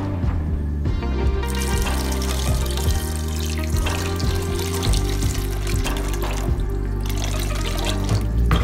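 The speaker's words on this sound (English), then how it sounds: "Just add some water, so the water comes up to the like covers the meats basically." Water pours steadily from a tap into a pan holding meat and onions, a loud continuous splashing and gurgling that runs unbroken, with no voices.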